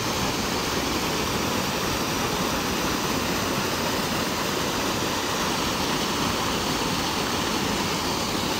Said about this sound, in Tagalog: Ah, ito na yung Paing Falls.